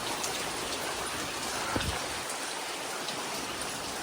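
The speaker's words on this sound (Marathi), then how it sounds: "पाऊस एकदम जोरदार चालू झालेला आहे" Steady, dense rain noise fills the whole stretch, a constant broadband wash with a brief low thump partway through.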